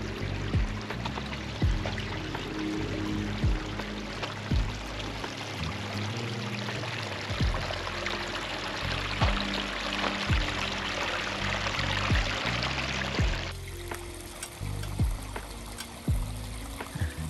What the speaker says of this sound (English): this water feature, this little creek, the sounds of the water.